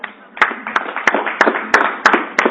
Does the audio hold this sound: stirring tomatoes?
no